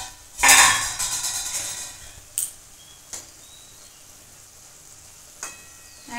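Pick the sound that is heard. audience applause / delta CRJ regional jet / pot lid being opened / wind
pot lid being opened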